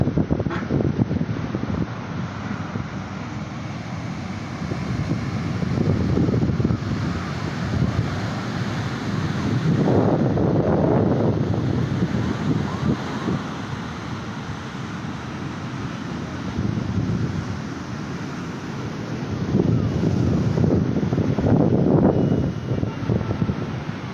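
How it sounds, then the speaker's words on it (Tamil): Ocean waves break at Maravanthe beach in a slow surging roar that swells and fades every few seconds under heavy wind buffeting on the microphone. "அலை அடிக்குது பாருங்க."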